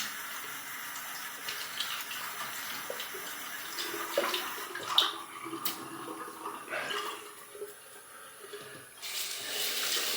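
A bathroom tap runs steadily for a quick rinse during a shave, a close hissing stream with small splashes and shifts in flow, heard alone without talk.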